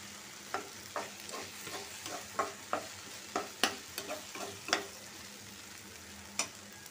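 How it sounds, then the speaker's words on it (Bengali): Okra and potatoes frying in a pan make a steady, soft sizzle, broken by a dozen or so sharp scraping stirs at an irregular pace. No one speaks. "আমার ভেন্ডি ভাজিটা হওয়ার পথে।"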